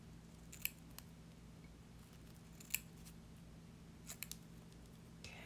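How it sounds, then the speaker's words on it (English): Scissors snip a small piece of lace in a quiet room, producing a few faint, sharp isolated clips over a low steady hum. "Well, I'll just cut a little piece here."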